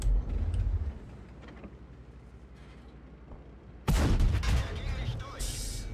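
Loud artillery blasts and gunfire booms in a World of Tanks battle, a sharp burst at the start and a heavier cluster of impacts near the end over a low rumbling background.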